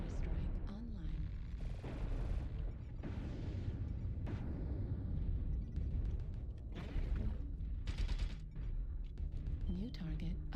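Incoming missiles and an artillery strike in MechWarrior Online build into a dense barrage of rumbling booms and blasts, heavy and continuous, with synthetic warning tones and voices layered over the combat.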